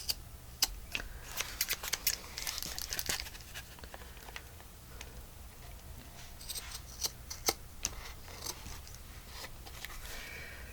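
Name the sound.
long scissors cutting card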